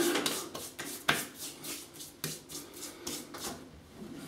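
Tabac shaving soap is rubbed in by hand at close range, a soft, rhythmic wet rubbing and scraping with a few sharper taps, quiet and with no talk.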